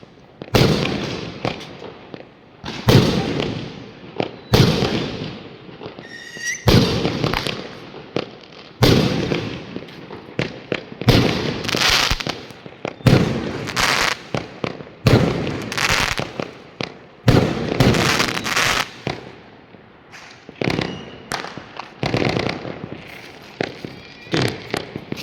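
New Year's Eve fireworks in China crackle and boom in rapid, irregular bursts, dense volleys of loud pops and cracks following one another with barely a pause throughout.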